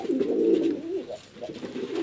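Pigeons coo nearby in hot summer weather, a loud, low throaty warble that rises and falls in a few rolling phrases over two seconds, with no talking.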